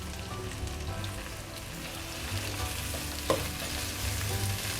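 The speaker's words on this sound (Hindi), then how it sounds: "तो चलें डालते हैं, इसको फ्राई करते हैं" Onions fry in a pan for an Indian bhindi masala, giving a steady, soft sizzle and crackle with a faint clink partway through, heard close up and without voices.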